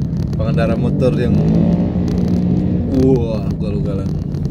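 Motorcycle and car traffic rumble steadily along a street near a campus in Depok, with engine drone and passing vehicles heard close by beneath continuous talking.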